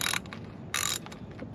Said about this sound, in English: this one you can use a 8 millimeter to unloosen these